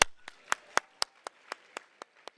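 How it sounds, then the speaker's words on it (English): Clapping from an audience at a World Cup kickoff celebration in Los Angeles: about ten sharp, evenly spaced claps, fairly close and dry, with no voices over them. "Let's give one more round of applause for Mr."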